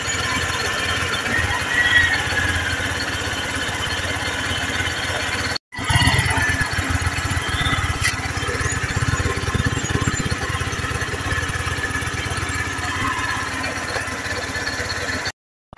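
A motorcycle engine idling after an oil change to circulate fresh oil, a steady close mechanical running sound with a high-pitched whine, cut by a brief silent gap partway through.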